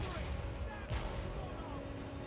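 Cannons fire at a tower during a strategy game battle, with one sharp, close boom near the middle standing out over a dense, steady din of battle noise.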